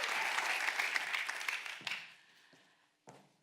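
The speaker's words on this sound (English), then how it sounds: "Let's all give Lisa a very loud round of applause as she takes stage" A conference audience claps loudly for a speaker taking the stage at a forum, a full round of applause that fades out, followed by a couple of faint isolated sounds.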